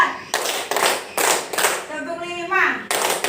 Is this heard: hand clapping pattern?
yes